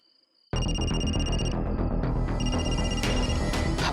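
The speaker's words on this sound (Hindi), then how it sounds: "भाई फोन आ गया।" A telephone starts ringing abruptly after a brief quiet moment, a loud, continuous electronic ring with steady repeating tones that keeps going.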